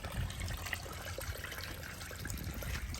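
A tiny newly built landscaped garden waterfall gives a faint, steady trickle and patter of water running over rocks, a continuous soft splashing heard close by with no voices.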